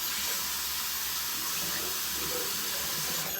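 Running tap water rinsing a razor during a wet shave, a continuous even splashing hiss at close range, fairly quiet and steady, with no speech.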